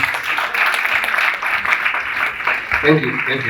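Audience applause at a cabin crew fair, a steady wash of clapping from a crowd that continues throughout, with a voice speaking over it near the end.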